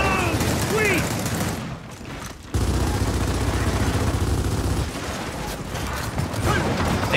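Hammerburst rifle firing in a game, loud rapid bursts of gunfire with mechanical clatter, a short lull midway, then sustained shooting resuming, under someone talking.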